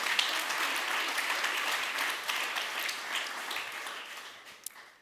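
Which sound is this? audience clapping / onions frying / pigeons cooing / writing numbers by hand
audience clapping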